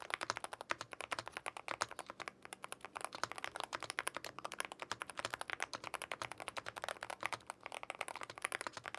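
Typing on a BOOG75 magnetic gaming keyboard, a rapid steady stream of crisp key clacks up close, continuous for several seconds with no talking.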